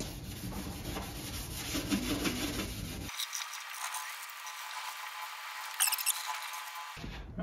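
A red Scotch-Brite pad scrubs Simple Green cleaner across the firewall of a 1967 Camaro, giving steady close rubbing and squeaky rasping strokes with a brief louder scuff near the end.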